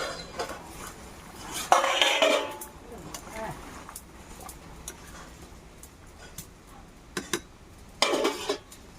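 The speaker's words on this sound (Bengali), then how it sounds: "ঢাকাটা খুলে আমি দেখে নেবো" A lid clanks off a pot of banana flower curry around the two-second mark, a metallic clatter followed by scattered utensil clinks and a later burst of rattling near the end.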